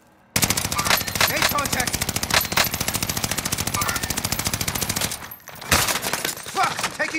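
Rapid automatic gunfire in Call of Duty: Modern Warfare, loud and close, with dense overlapping bursts that break off for a moment near the end before resuming. A voice speaks briefly over the shooting.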